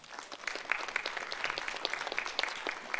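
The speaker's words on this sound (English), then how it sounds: "A round of applause for them, please." An audience at a scholarship quiz competition applauds the team, with a fairly faint, brisk patter of clapping from a modest crowd that holds steady for a few seconds.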